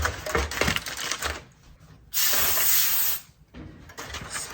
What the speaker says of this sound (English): Spraying my pan with oil.